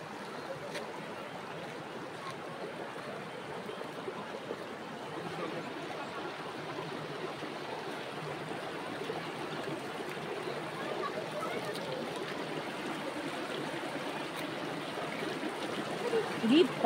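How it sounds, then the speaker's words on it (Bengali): Cold water of a mountain stream near Tabakoshi, Darjeeling, flowing in a steady, soft rushing wash that continues unbroken, fairly quiet and close, swelling slightly near the end. "জলের একটু স্রোত আছে"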